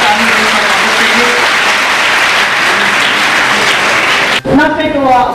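A large audience at a women's college event gives loud, sustained applause for athlete Neelu Mishra, thick steady clapping that cuts off abruptly before a voice begins speaking.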